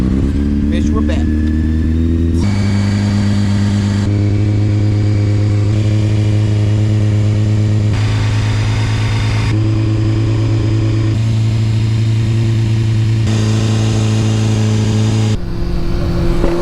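A Honda CBR600F4i motorcycle engine runs on a cold start, holding a steady, loud idle with stepped rises and falls in pitch as it is revved in blips, close to the microphone.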